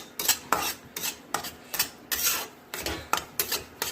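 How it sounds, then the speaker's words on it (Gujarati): Coarse wheat flour roasting in ghee for Gujarati shiro, stirred with a spoon against the pan in a steady series of close, rasping scrapes, about two or three strokes per second, with no voices. "આ ઘઉંનો કકરો લોટ છે, એને ઘીમાં નાખી શેકી દેવાનો"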